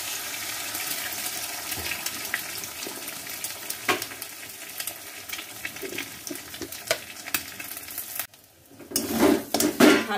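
Egg frying with onions in a pan for homemade chowmein: continuous close sizzle with frequent utensil scrapes and clinks, a short quiet gap, then louder stirring knocks.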